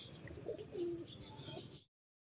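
Pigeons coo softly at a loft during a racing wait, a few low warbling calls close by, with faint chirps from other birds over a quiet background before the sound cuts off.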